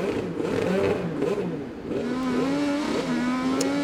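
An IndyCar race car sits running on pit road, its engine a loud, steady idling drone with a wavering pitch, set in a busy race-day crowd and commentary at the 2018 Firestone Grand Prix of St. Petersburg.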